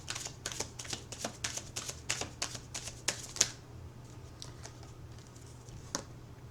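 Tarot cards are shuffled close by with quick, rapid riffling snaps and pattering for several seconds, then a few sparse soft flicks, all quiet and without talk.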